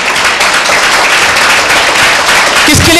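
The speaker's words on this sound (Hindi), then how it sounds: "क्या मरी हुई तालियां बजा रहे हो यार" A church congregation at a Sunday meeting claps steadily and half-heartedly, a dense wash of hands continuing throughout, with a voice breaking in at the very end.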